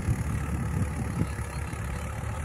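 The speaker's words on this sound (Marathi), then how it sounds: "ट्रॅक्टर यंत्र आहे, ट्रॅक्टर यंत्र, पेरणी यंत्र" A tractor pulls a seed-sowing machine through a field during soybean planting, its engine giving a steady, continuous low rumble at moderate distance with no voices.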